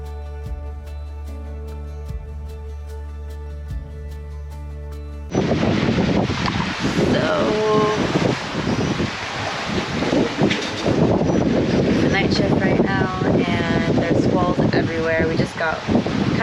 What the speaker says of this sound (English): It's gusting like 25, which isn't too bad.